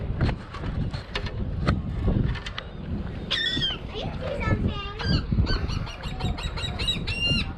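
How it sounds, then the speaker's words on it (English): Seabirds squawk and cry outdoors by the water in Clearwater, Florida, a cluster of loud calls in the second half over constant wind and people talking nearby. "Look out here, birds."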